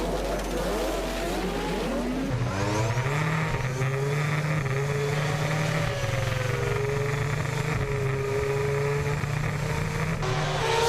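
A female racer's drag racing car roars at close range, a loud sustained engine note climbing through revs and then holding steady, with a brief tire squeal, no voices.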